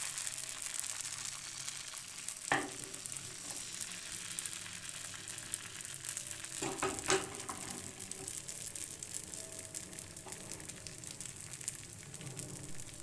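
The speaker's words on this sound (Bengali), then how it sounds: "এবার দিয়ে দিলাম 1 হাতা ব্যাটার, দিয়ে এদিক ওদিক ঘুরিয়ে দিয়ে দিলাম।" Ladle of patishapta batter sizzling and frying in a hot oiled pan, a steady close crackling hiss broken by a few sharp clinks of utensils, with no talking.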